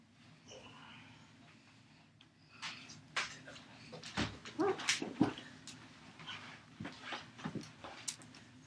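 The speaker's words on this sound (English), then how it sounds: "He's kind of a huggy dog." A sleepy, cuddly pet dog indoors lets out soft whimpers and whiny yips, close and intermittent, with light shuffling and a few faint words from a woman.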